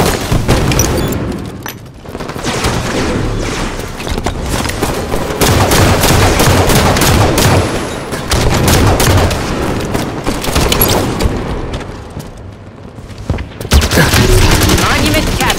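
Bursts of rapid gunfire and booming shots in Halo 5: Guardians Warzone battle, with pistol, battle rifle and DMR fire, loud and dense throughout, with short pauses between volleys and game voices calling out over it.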